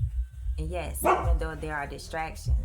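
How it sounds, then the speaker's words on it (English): A dog barks a few times in quick succession, fairly loud and close, mixed in with a person speaking over it. "there go my dog barking"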